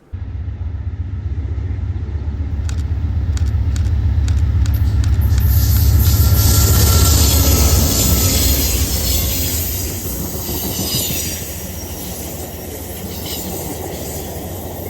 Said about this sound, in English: Here it is passing through Webster Square.